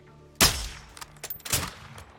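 Gunfire in Call of Duty Modern Warfare 2: one sharp, loud shot followed by a few quicker, softer cracks and echoes over a quiet backdrop.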